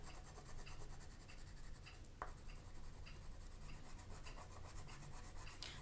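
Crayon dragged back and forth across paper to shade a letter, with a steady run of soft, rhythmic scratchy strokes and one sharper tap partway through, close and quiet with no talking.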